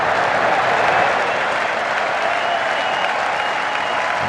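Cricket crowd in a stadium applauding a batter's half-century during a test match night session, dense sustained clapping and cheering that swells slightly before holding steady throughout.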